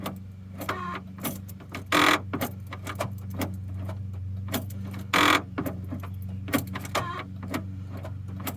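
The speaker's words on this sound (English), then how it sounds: "As you can hear, when I lock it, that actuator is still really annoyed" The door lock actuator on a 2016 Kia Forte 5-door strains as the car locks, giving two short, loud mechanical bursts a few seconds apart over a steady low hum and scattered clicks.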